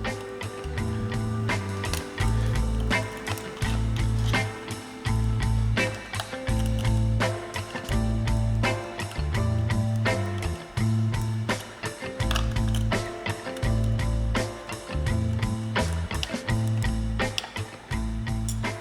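A ratchet wrench loosening bracket mounting bolts on a 3D printer's modular idler pulley mount, rapid repeated clicking in bursts with short pauses, close and fairly loud, no voices.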